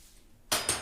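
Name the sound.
child playing with kitchen pots and utensils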